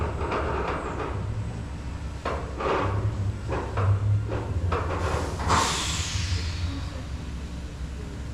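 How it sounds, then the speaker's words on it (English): A roller coaster train at Six Flags Fiesta Texas rumbles and clanks while being readied in the station, with irregular mechanical knocks, a low steady hum and a brief hiss midway. "here's the train getting ready."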